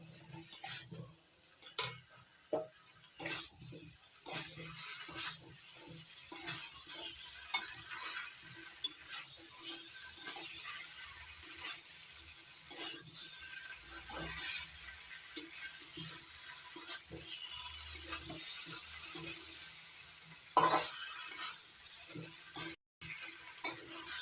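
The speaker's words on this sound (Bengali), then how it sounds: "ভেজে রাখা আলুটা এঁচড়ের সঙ্গে ভালো করে কষিয়ে নেবো" Young jackfruit being stir-fried with fried potatoes in a pan, a steady sizzle broken by frequent scraping and clacking stirs of a spatula against metal, close and fairly loud, with no talk.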